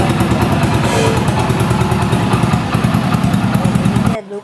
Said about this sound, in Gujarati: હવે નીકળી જઈએ બાઇક લઈને